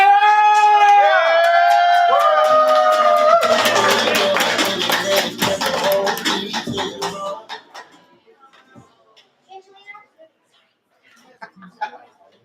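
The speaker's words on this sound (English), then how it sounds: "clap it up for the homie Jeremy!" An open mic audience claps and cheers for a poet called to the stage, starting under a host's voice with whoops and rising into dense clapping, then trailing off into a few scattered claps and quiet chatter.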